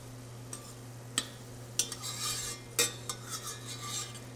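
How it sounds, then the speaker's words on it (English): Onions being stirred in a frying pan for a salmon and shrimp stir-fry, with several distinct scrapes and clinks of a utensil against the pan over a low steady hum, fairly close and moderately loud, no talking. "Making sure to stir it regularly so that we're not getting part of our onions that are cooked and part of them that are still raw"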